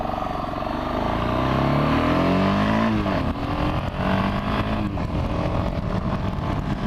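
A 2013 BMW 650 GS motorcycle engine buzzes steadily and loudly up close, its pitch rising and falling through shifting revs over about seven seconds without talk.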